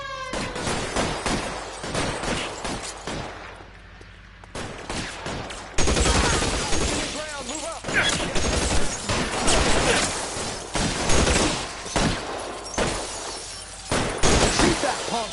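Gunfire in the L.A. Noire video game, dense bursts of shots and impacts repeating across the whole stretch, loud and close, with a brief quieter lull partway through.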